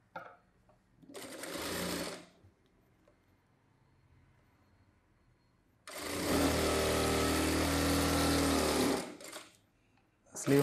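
A sewing machine runs rough stitching on a blouse sleeve in two bursts: a short whirring run, a pause, then a longer steady run, close and loud with no voices.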